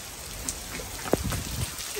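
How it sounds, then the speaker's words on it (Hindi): Steady rain hisses across the whole clip with a few sharper drops and pattering hits, moderately quiet and without any voices. "काफी तेज बारिश हो रही है।"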